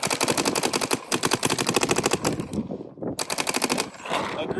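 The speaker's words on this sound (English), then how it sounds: "Let it rip. Shoot all that paint, baby." A DLX Luxe Idol paintball marker fires paint in rapid, evenly spaced bursts, a dense loud string of pops broken by a brief pause before resuming.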